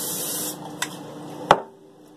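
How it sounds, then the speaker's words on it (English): Cooking oil spray hisses into an air fryer in a half-second burst, followed by two sharp clicks or taps close by, in an otherwise quiet kitchen. "I have some spray oil here."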